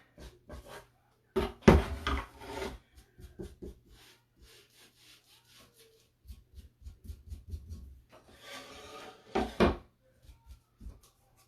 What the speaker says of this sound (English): I'm going to take distressing ink and go around the outside